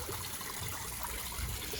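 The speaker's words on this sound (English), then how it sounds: "Waterfall looking good." Water from a backyard koi pond waterfall trickling steadily into a half-filled pond, a continuous close splashing wash with no voices.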